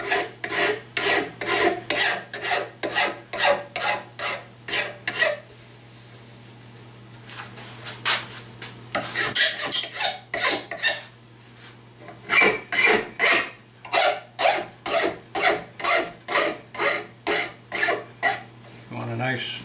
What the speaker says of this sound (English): go back with a fairly smooth file and just break that edge, get rid of that burr you've developed